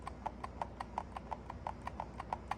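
A Razer Wolverine V2 Pro controller's trigger is pressed fully over and over, making about a dozen faint, crisp clicks at an even, quick rhythm, heard close up with nothing else going on.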